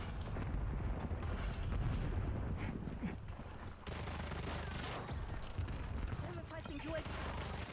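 Dense video game battle noise with a rumbling barrage of explosions and gunfire from cluster grenades, continuous and moderately distant, with voices talking over the combat.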